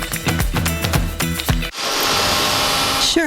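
A Dyson DC65 vacuum cleaner starts up mid-clip and runs as a loud, steady broadband whoosh, preceded by rhythmic music-like thumps, with a short rising whine near the end.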